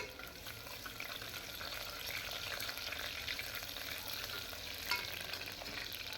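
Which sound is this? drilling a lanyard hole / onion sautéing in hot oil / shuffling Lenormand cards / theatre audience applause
onion sautéing in hot oil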